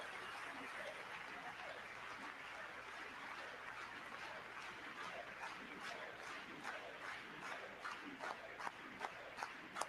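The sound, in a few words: audience standing and clapping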